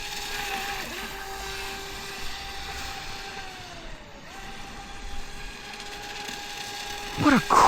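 A small brushless motor on a TY XIN TX768 3S RC boat whines at a steady high pitch that dips briefly and recovers, with water churning beneath and a sharp clatter at the end.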